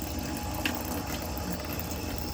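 Water runs steadily from the hot side of a fixture during winterizing, a constant close rushing hiss with no pauses across the whole stretch.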